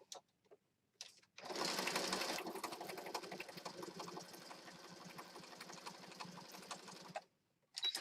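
A sewing machine stitches through pocket journal pages of mixed media paper, gel prints and stamped sheets, starting with a quick burst and then running in one steady, close, whirring stretch of about six seconds before stopping.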